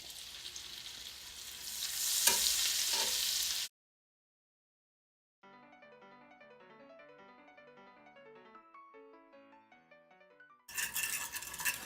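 Butter and flour frying in a pan for Southern biscuits-and-gravy gravy give a loud, bright sizzle with stirring scrapes, then silence, then a stretch of tonal music before the sizzle returns.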